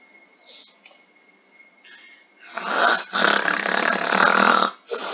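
A person imitates snoring with loud, rasping, drawn-out breaths, two long rattling snores following a few quieter sounds, close to the microphone.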